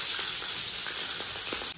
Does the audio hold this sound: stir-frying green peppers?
yes